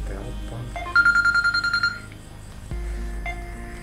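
A telephone ringing as a call is placed, a repeated electronic ring pattern of quick pulses heard clearly over a low background hum.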